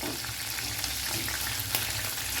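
Prawns deep frying in hot oil over a medium flame, a dense, continuous sizzle and crackle with small pops, heard close and steady.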